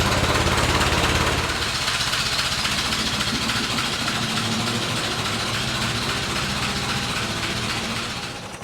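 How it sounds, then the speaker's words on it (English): A 1917 International Model F truck engine chugs steadily at idle, a loud low mechanical rumble with a regular knocking rhythm, continuous and close, fading slightly at the end. "so we got the engine running"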